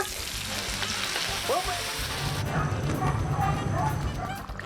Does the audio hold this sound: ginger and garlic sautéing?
yes